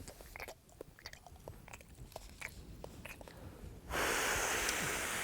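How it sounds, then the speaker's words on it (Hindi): Chewing gum being chewed close up: wet, rhythmic smacking and clicking bites for about four seconds, then a sudden loud broadband hiss takes over to the end. "कुछ नहीं, च्युइंगम चबाते हैं"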